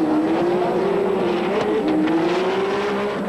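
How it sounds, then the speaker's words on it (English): Nissan GT-R touring cars race around a circuit, with a loud, sustained high-revving engine drone that rises and dips slightly as the cars push on, and no talk heard. "There's the ominous sign, the red, white and blue Nissan carving through the traffic."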